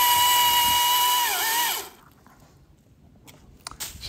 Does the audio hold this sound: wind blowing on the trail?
no